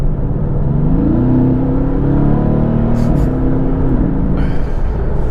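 A sports car engine revs up in a deep, loud, close rumble, its pitch climbing, holding and then dropping, with no talk over it.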